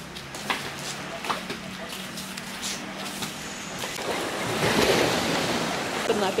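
Ocean surf at Padang-Padang Beach in Bali, a steady broadband wash of waves that swells louder toward the end, with some wind buffeting the microphone.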